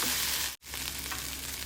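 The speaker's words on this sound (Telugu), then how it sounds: "చూస్తున్నారుగా బెండకాయలు ఉల్లిపాయలు జిగురు లేకుండా వేగుతున్నాయి" Sliced okra and onions fry in a pan with a loud, steady close-up sizzle, broken by one brief instant of silence.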